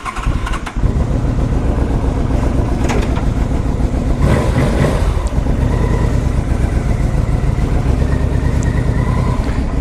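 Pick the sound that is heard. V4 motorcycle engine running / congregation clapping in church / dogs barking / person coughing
V4 motorcycle engine running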